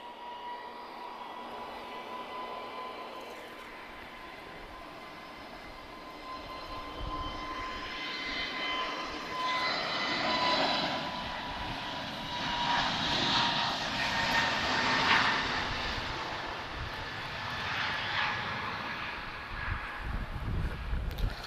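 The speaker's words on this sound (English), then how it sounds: "Oh, we've got a takeoff." A fixed-wing airliner taking off at Lisbon Airport, its engine roar swelling from a distant rumble to a loud, sustained drone with wind noise on the microphone, no talk.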